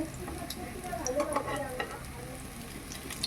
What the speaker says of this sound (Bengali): এক পাশ ভাজা হলে উল্টে আর এক পাশ ভেজে নিন